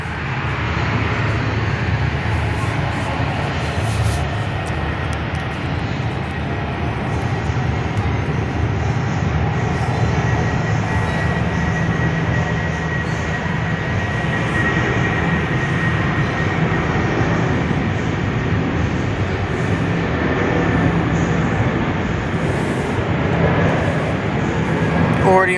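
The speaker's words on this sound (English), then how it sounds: "Qantas A330-200 departing for New Zealand," A Qantas Airbus A330-200 airliner takes off from Perth for Auckland, a loud, sustained engine roar filling the whole stretch with broad low rumble and steady high whine, some voices faintly beneath.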